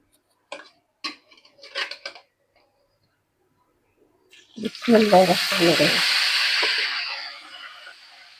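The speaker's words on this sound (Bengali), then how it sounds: "আমার তেল গরম হয়ে গেছে, আমি দিয়ে দিলাম মাছের মাথাগুলো।" Rohu and tilapia fish heads drop into hot oil with a sudden loud, steady sizzle that hisses on for several seconds, after a few faint clinks of utensils beforehand.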